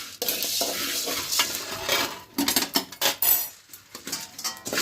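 Curry leaves crackle and sizzle in a hot pan while making homemade sambar powder, with busy frying hiss, sharp popping bursts and the scrape and clatter of stirring against the pan.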